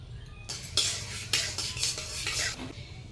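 Panch phoron and dried red chillies fry in mustard oil for a sweet-sour hog plum pickle, with several short spluttering bursts and spoon clinks against the pan, close and without speech.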